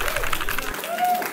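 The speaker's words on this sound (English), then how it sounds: "big round of applause" A crowd at a Chicago mechanical keyboard meetup breaks into applause, a dense wash of clapping that holds steady at moderate loudness while a voice talks over it.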